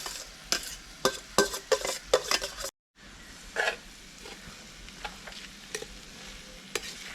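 A spoon scrapes and stirs ration rice through simmering beef biryani in a pot, irregular clanks and scuffs over a soft steady sizzle, with a brief pause midway before the stirring resumes.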